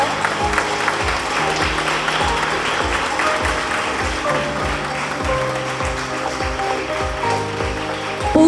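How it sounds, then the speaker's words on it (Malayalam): Audience clapping continues at an award ceremony honouring students, a moderate, even patter running alongside a steady rhythmic musical beat and sustained background tones. "കയ്യടിയുടെ ആരവം കുറവാണ്."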